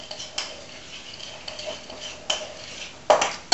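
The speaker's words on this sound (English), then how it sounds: "So I'm just going to mix that with all the cream cheese in here." A utensil scrapes and clinks against a bowl while cream cheese filling for Mexican manicotti is mixed, giving irregular soft taps and scrapes with a couple of sharper knocks near the end.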